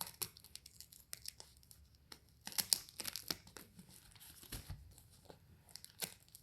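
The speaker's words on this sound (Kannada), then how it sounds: "ಇದನ್ನು ಸೀಸರಲ್ಲಿ ಕಟ್ ಮಾಡು" Scissors cut open a parcel package with scattered sharp snips, tearing and crinkling of wrapping, close and fairly quiet, in irregular bursts.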